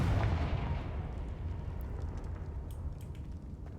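A Confringo spell blast in the video game Hogwarts Legacy: one loud booming burst at the start that rumbles and decays into a fading tail, with no voices.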